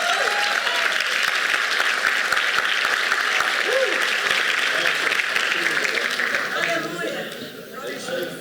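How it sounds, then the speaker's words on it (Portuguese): A church congregation applauds together in a thick, continuous wash of clapping that stays loud for most of the stretch, then thins and drops away near the end as a few voices come through. "Você pode aplaudir a palavra do Senhor?"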